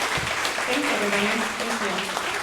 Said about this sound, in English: Can we give them one last big round of applause?